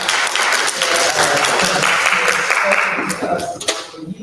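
Sustained applause from a meeting audience, dense steady clapping that holds at a loud level for several seconds before thinning out near the end.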